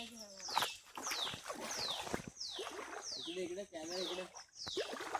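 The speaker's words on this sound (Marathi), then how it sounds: "पक्षी बघा कसे ओरडत आहेत तुम्हाला आवाज येत असेल" Birds call repeatedly with sharp descending chirps, about one per second, over a steady background of outdoor noise and some talking, in a Konkan village.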